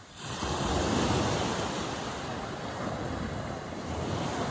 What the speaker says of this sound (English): The north-facing beach so that it gets more wind than other beaches.